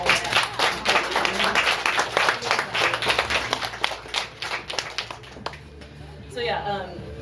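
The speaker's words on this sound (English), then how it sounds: "Big claps for all." An audience at a forum event bursts into lively clapping and cheering that gradually thins out, with a voice speaking over the tail end.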